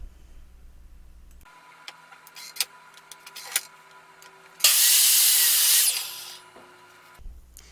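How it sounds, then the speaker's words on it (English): A miter saw makes one cross cut in wood, a loud burst of blade whine lasting under two seconds. Scattered clicks and knocks from handling the wood come before it, with quiet after. "I like to use my miter saw for most of my cross cuts."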